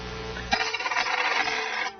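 A coin drops onto a hard surface: one sharp strike followed by a bright, shimmering metallic ring that lasts more than a second before cutting off, alone in a quiet room.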